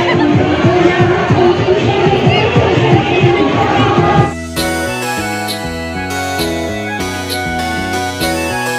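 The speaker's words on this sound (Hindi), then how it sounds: "अभी बहुत भीड़ है" A dense night crowd at the Rajim fair fills the first few seconds with loud, close babble and shouting, then festive music with jingling tones takes over for the rest.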